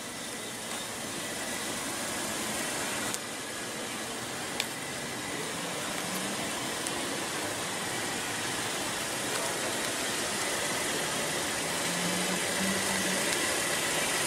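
A 2015 Hyundai Elantra engine idles with the hood open, a steady low hum and whir that holds evenly throughout, with a couple of faint clicks and no talking.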